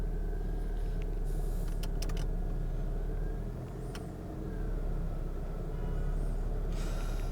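A 1994 Toyota Corolla SE Limited 16-valve idles steadily after starting with the air conditioning switched on, a constant low engine hum with a brief dip in the middle and a few faint clicks, no voices.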